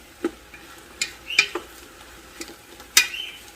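Chopped garlic and red pepper are stirred in a sizzling pot, a quiet hiss under a few distinct spoon scrapes and clinks spread over a few seconds, with no talking.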